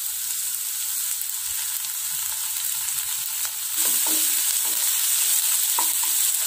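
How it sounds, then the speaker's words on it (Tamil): Ginger garlic paste and chopped onions sautéing in a pan for butter chicken, a steady close sizzle with occasional scraping stirs that grows slightly louder partway through. "இந்த இஞ்சி பூண்டோட ஸ்மெல் போகிற வரைக்கும் நம்ம கொஞ்சம் இதை நம்ம வதக்கிக்கலாம்"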